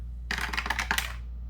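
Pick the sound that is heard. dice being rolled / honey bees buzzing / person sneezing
dice being rolled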